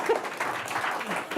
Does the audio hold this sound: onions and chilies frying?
no